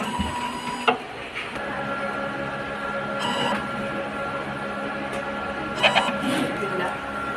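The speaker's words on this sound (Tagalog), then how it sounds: "Ito po yung sublimation machine po dito sa Bohol." A sublimation printer running a printhead cleaning cycle: mechanical whirring with rhythmic carriage movements and short clicks, a steady machine hum running throughout.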